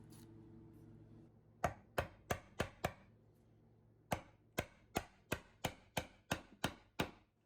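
A wood chisel slices the side walls of a mortise, with two runs of sharp, crisp chops: five quick strikes, a pause, then about nine more in steady rhythm, close and clear over a quiet room.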